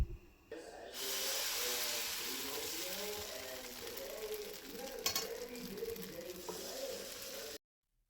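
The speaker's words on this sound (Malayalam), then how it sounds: "ഇനി ഒരു തവി മാവ് ഇതിൽ നിന്ന് ഒഴിച്ചു കൊടുക്കാം." Appam batter ladled into a hot appam pan, giving a steady sizzle and hiss that runs for several seconds and then cuts off.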